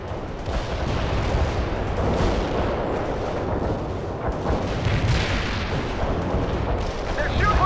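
Battlefield gunfire and artillery in World in Conflict: a continuous, loud barrage of rumbling shell blasts and rattling shots with radio-style voices speaking over the combat.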